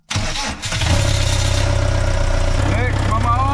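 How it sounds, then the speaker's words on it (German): A sailing yacht's marine engine cranks and catches after an exhaust gasket repair, then settles into a loud, steady close-up idle with a low throbbing rumble. "So, jetzt machen wir den Motor an und schauen mal,"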